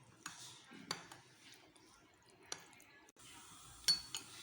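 Custard powder being mixed into milk with a spoon in a bowl, with soft scattered clinks and scrapes of utensil against the dish, quiet and close.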